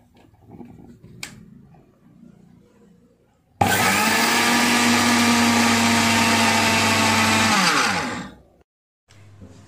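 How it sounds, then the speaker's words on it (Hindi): An electric grinder whirs loudly for about four seconds as it coarsely grinds sesame seeds, starting abruptly and winding down at the end, with quiet kitchen sounds before and after. "अब मैं तिल को भी दरदरा पीस लेती हूँ"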